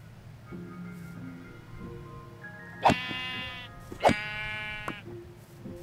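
Sheep in Minecraft bleating, two loud, wavering bleats a second apart over quieter background tones, with a faint third call after.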